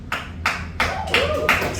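Audience clapping in a comedy club, several short bursts of applause in quick succession, loud and near, with no talk over them.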